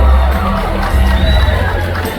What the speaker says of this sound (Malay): Tepukan gemuruh untuk Adau Karambunay, Cik Edeline Pilon.